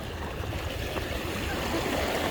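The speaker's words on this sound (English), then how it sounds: "the water's coming over it already" Waves wash steadily over the rocks of the Rockland Breakwater in Maine, a continuous close rushing and trickling of water with no talk.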